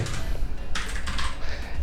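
Rapid clicky typing on a computer keyboard at a desk, close and steady, in a couple of dense bursts over a constant low background hum.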